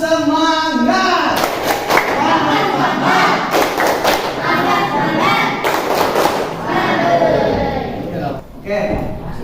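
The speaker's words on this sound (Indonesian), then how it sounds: "tepuk semangat dulu pakai tepuk semangat" A classroom of students does rhythmic spirit clapping in a lesson, with loud group claps and thumps in patterns, mixed with voices and chanting throughout.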